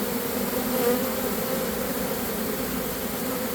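Honey bees buzz in a hive during queen banking. The colony has been queenless for about an hour. A dense, steady, loud drone of many bees is heard up close, continuous and unbroken, with no voices.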